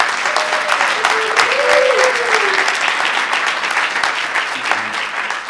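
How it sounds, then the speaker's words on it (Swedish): An audience in a large lecture hall gives a sustained round of applause for the camera crew who filmed the talks, steady and fairly loud, with a voice speaking briefly over it. "En applåd till dem som har filmat alla."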